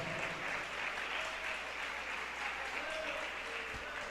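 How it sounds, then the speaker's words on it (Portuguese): Congregation applause during a Portuguese-language Bible study in a church, a faint, steady wash of clapping heard from a distance, with a low hum and a few faint voices underneath. "Pode aplaudir com alegria."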